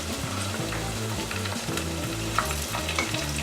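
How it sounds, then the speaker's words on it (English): Green peas and green chili sizzle and crackle in hot oil for khichuri, a dense, continuous close frying hiss with stirring, no voices. "I want to fry them."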